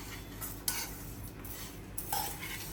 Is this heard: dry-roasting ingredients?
yes